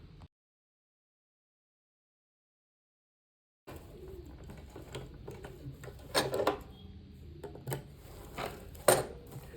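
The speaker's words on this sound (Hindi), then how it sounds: "तो चलिए पहले मैं इसे सिल लेता हूँ" A sewing machine stitches a Laddu Gopal dress, the curved seam sewn at close range after a short silent gap, with a steady mechanical rattle and a few louder clacks near the end.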